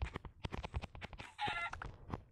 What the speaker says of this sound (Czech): Tamhle je slepice, takže tu asi budeme teďka muset zabít.